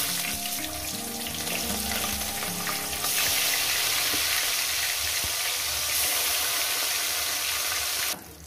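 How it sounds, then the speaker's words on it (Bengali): Bata fish sizzles steadily in hot oil in a pan, a dense, loud frying hiss that runs continuously, briefly swells louder partway through, then drops off at the very end. "বাদ বাকি মাছগুলো একেবারে ভেজে নিয়ে দিচ্ছি"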